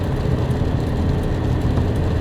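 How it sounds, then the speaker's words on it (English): A Daewoo Matiz SE engine over-revs during an evening drive, a loud, steady, close low drone that holds without a break. "That was over-revving"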